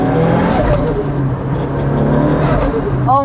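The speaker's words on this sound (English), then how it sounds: "I think we'll roll into a little bit of boost here for my first pull." A Mitsubishi Evo 9 accelerates under turbo boost, a loud, steady engine roar heard from inside the car with whirring rising over about three seconds, no talking.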